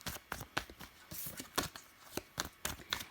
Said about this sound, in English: I'm just shuffling back into my decks